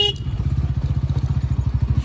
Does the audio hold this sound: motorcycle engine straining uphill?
yes